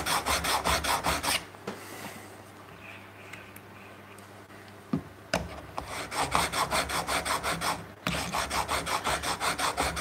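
A tool blade rasps against a sharpener in a woodshop, with rhythmic strokes that come in quick repeated bursts, pause briefly, then resume in steady back-and-forth scraping close by.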